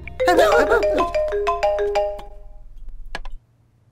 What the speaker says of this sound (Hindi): वो क्या है ना कि तुम्हारा फोन रिंग हो रहा है